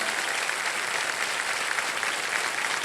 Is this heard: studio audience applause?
yes